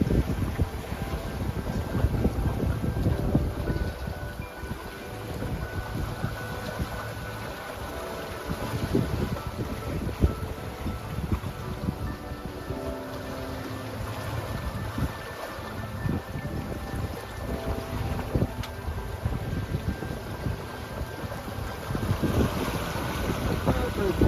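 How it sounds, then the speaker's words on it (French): Gusty wind roars steadily across a sailboat at sea under spinnaker, with wind buffeting the microphone and a rushing of water and swell along the hull throughout. "on va s'en prendre un autre là parce que ça souffle, rafale"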